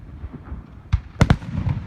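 Fourth of July fireworks bursting outdoors: a single sharp bang, then two quick heavy booms close together, followed by softer crackling pops against a faint background.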